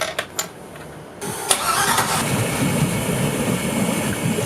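Brand-new engines on a 37 ft Sunrunner boat cranking and catching after a few clicks, then settling into a loud, steady rumbling idle close by.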